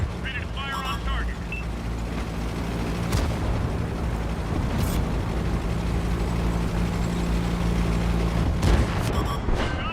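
Tank cannon fire in World of Tanks: a few heavy booms spaced several seconds apart over a constant low engine rumble, with brief voice lines in between.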